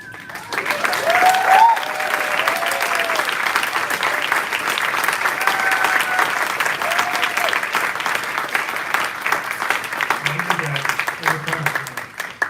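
A large audience at an evening capstone presentation event gives sustained, dense applause for the fellows, steady and loud for the full length with a brief swell early on.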